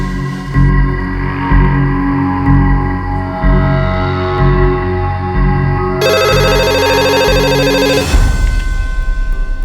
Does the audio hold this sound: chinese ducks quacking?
no